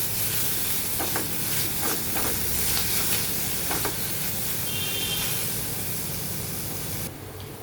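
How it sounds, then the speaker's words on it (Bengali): Mushrooms frying in a pan with a dense, steady hiss of sizzling oil and occasional soft stirring strokes, loud and continuous, with no speech. "এবার আমি মাশরুমগুলোকেও একটু ফ্রাই করে নেব"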